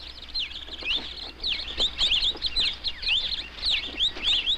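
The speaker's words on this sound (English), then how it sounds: "Brazilian cardinals, what beautiful birds." Brazilian cardinals in the Llanos give a rapid string of bright, repeated chirps and whistled calls, fairly close and continuous, with no speech.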